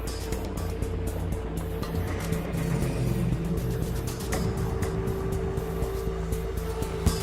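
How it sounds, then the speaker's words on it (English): Armored police Nyala vehicles moving in a line at Marikana, a steady rumbling engine drone with crackling, gritty noise throughout and no clear pauses. "There's armored vehicles."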